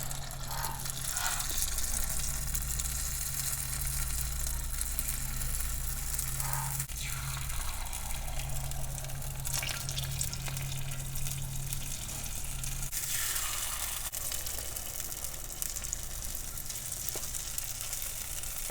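Quail egg paniyaram made with plain dosa batter cooks in hot oil in a paniyaram pan, giving a steady, moderately quiet sizzle and crackle with a few brief clicks and scrapes.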